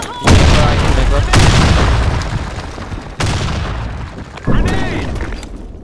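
Grenades explode in the shooter game Blackshot: four loud, sharp booms spaced about a second apart, each with a short decaying rumble, while players shout over the blasts.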